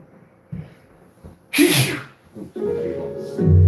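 A single loud, close sneeze from morning allergies, preceded by a short breathy inhale and followed by sniffing and a low murmur.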